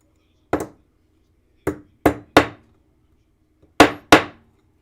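A hammer strikes a twisted metal piece flat on a bench block: six sharp, ringing blows in uneven groups, loud and close, each decaying quickly into silence.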